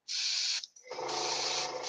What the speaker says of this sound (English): And we're spraying down on the model